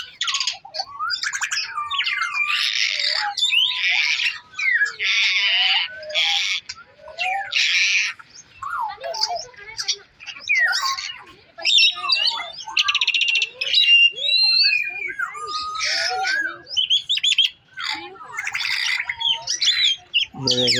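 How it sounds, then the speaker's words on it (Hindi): Parrots calling at Bahawalpur zoo, a dense chorus of loud harsh squawks and shrill chirps overlapping continuously, close by, with faint human voices now and then beneath the birds. "अब अभी हम स्टार्ट लेंगे एक खूबसूरत तोतों से, जिनकी आवाज़ आप सुन भी रहे होंगे स्क्रीन पर"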